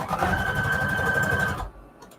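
A sewing machine runs a steady zigzag stitch on fabric, a close, even mechanical whirr with a rapid rhythmic chatter that stops abruptly after about a second and a half, followed by faint handling noises.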